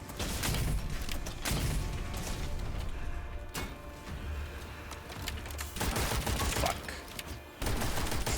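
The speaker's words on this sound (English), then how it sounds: "this might be a good spot for the grenade launcher" Grenade launcher fired in the video game Witchfire, heavy booming blasts and explosive crashes in quick bursts over dense game noise, loud and close.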